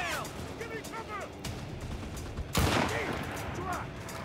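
Gunfire rings out in a zombie survival mode of the shooter game Enlisted. Scattered shots crack and echo, with one loud close blast midway, under a voice talking.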